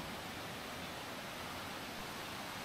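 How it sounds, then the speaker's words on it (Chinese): Sungai Pandan waterfall near Kuantan, the largest in Peninsular Malaysia, gives a steady, dense broadband roar of falling water with no breaks, loud and enveloping. "再看这个瀑布。"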